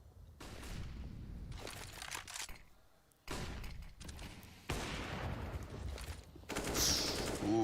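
Bursts of rifle fire from a professional Counter-Strike match crackle in several separate volleys, each sharp and dense, separated by brief gaps, with mechanical clicks between and no talk.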